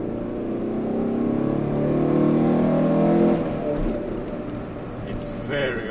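A Fiat Punto 75 ELX engine revs hard under acceleration, its rising drone swelling loudly over a few seconds before easing off, followed by lighter road and engine noise.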